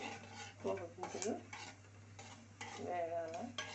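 Half a teaspoon of mustard and cumin seeds sizzle and crackle steadily in hot oil in a pan for a bottle gourd curry, a close, continuous fizz with faint clinks of a utensil against the pan.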